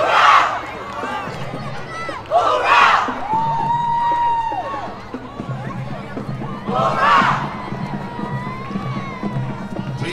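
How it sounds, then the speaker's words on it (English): Outdoor holiday parade crowd in downtown Reading cheering and whooping, with bursts of shouts rising and falling over steady background noise and some talk. "Give them a round of applause. Bravo! El aplauso bien fuerte"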